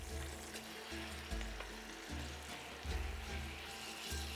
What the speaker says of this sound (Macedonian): ќе го испржам пилешкото месо на малку масло